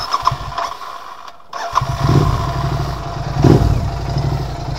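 A Royal Enfield Continental GT 650 twin-cylinder motorcycle cranks on the starter, pauses briefly, then fires and settles into a loud, close, throbbing idle with mechanical clatter.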